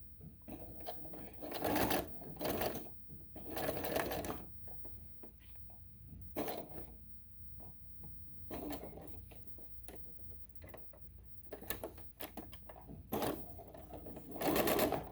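A sewing machine runs in several bursts of rapid stitching through bulky fabric at a longer stitch length, loud and close, with pauses between runs.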